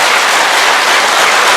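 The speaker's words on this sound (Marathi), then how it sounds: "65 इयर्स, जोरात जोरात जोरात जोरात जोरात टाळ्या वाजवा" Loud, dense applause from a large crowd at a kidney recipients' event, a continuous close wash of clapping filling the whole moment with no talking.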